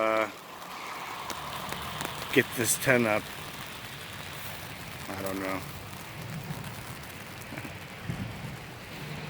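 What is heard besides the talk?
rain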